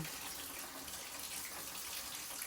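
Hot water runs steadily from a tap in a small cabin, a continuous broadband hiss of flowing water heard close and at even loudness throughout, with no talking.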